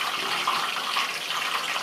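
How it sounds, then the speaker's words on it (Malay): Peanuts sizzle in hot oil in a wok over moderate heat, giving a steady, dense crackling hiss that stays level throughout with no voices. "Kita goreng dia dengan api agak tak kuat mana"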